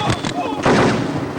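Loud gunshot bursts from a dubbed Hindi action movie: a few quick sharp cracks, then a heavier blast that decays with reverberant rumble.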